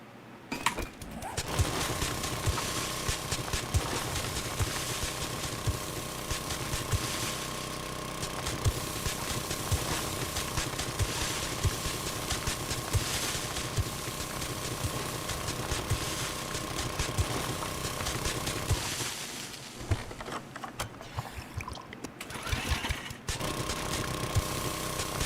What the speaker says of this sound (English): We're gonna burn this auger up.